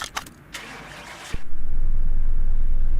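A Porsche 911 Turbo S 964 engine in the video game Car Mechanic Simulator 2018 cranks and catches inside a garage, then settles into a steady, loud idle hum after a few mechanical clicks and whirs.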